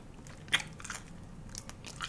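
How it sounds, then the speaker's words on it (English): A single sharp crunchy bite into Korean fried chicken, followed by a few softer crackling chews, close to the microphone. "This chicken is crunchy"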